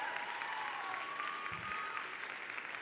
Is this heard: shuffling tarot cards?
no